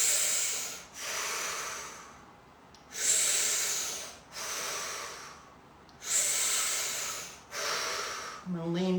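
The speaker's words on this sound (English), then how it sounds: "And I'm going to breathe." Slow deep breaths during a stretching relaxation exercise, several long airy inhales and exhales in a steady rhythm, close and fairly soft, with a brief voice at the very end.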